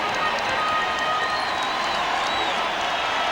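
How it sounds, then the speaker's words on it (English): An arena crowd at a Bulls versus Heat NBA Eastern Conference Finals game stands and roars in sustained cheering and applause, a dense steady wall of noise with no pause. "They're on their feet cheering the Bulls"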